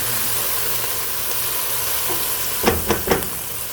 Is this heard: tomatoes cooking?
yes